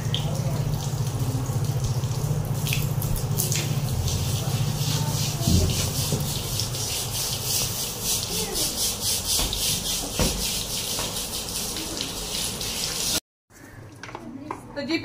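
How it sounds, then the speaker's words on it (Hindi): Items being washed by hand under a running tap: a steady, rushing hiss of water with rubbing and clatter runs continuously, then cuts off abruptly near the end, while someone talks over it. "चलो बेटा पहले ये धो लेते हैं"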